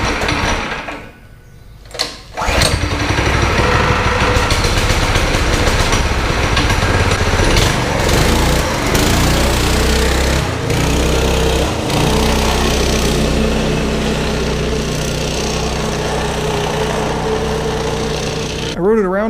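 A small go-kart engine runs steadily and loudly while the kart is ridden around to try to break the bead on a rusted-on tire, the revving droning on close by with no talk.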